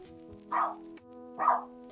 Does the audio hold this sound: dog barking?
yes